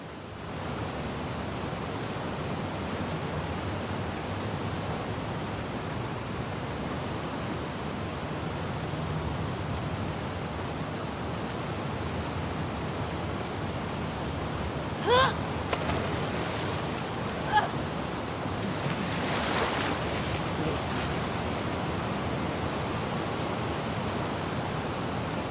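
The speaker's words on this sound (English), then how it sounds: "swimming to the aquarium as Ellie, when you were avoiding the waves." Rushing water and rolling waves surge through a flooded sewer in The Last of Us Part 2, a steady dense wash with a few brief louder splashes partway through.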